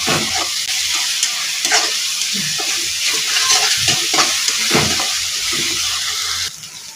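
Onion pieces and paste fry in hot oil for a mushroom curry, sizzling loudly and continuously up close while a spoon stirs with frequent short scrapes, then the sizzle eases slightly near the end.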